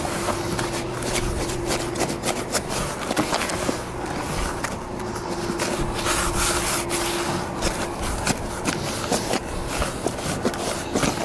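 Fishing groundbait for feeder fishing is mixed by hand beside the Saône in the rain, a continuous close-up gritty rubbing and rustling with irregular scrunches and no talk.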